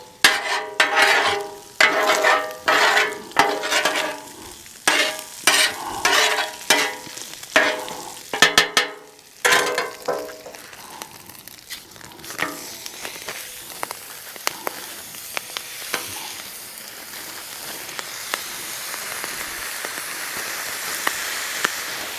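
Cheesesteak meat sizzles on a Blackstone 28-inch folding-leg griddle, with rhythmic scraping and chopping from a spatula over the first half, then a steady loud sizzle hiss.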